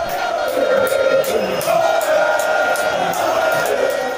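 A large crowd of supporters protests outside a collation hall in Techiman South, a loud, continuous mass of shouting and chanting voices with repeated sharp bangs punctuating the din.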